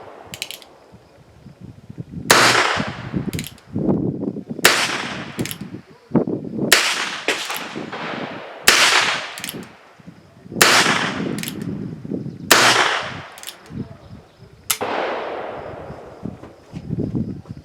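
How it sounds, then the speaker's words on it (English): Heritage Rough Rider revolver firing a series of about ten sharp, loud shots at an uneven pace, each cracking report followed by a short ringing tail, with no talking. "So I have the Rough Rider loaded up again, and I'm going to shoot some more rounds."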